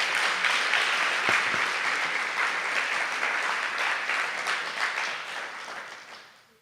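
An audience at an annual Martin Luther King Jr. oratorical competition applauds middle school students, a full, dense clapping that starts strong and gradually thins and fades out over several seconds.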